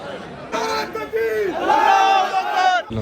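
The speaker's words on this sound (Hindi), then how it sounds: "भीड़ देखो भाई" A crowd gathered on Shab-e-Barat night, with loud overlapping voices and raised shouts that rise in a sustained swell.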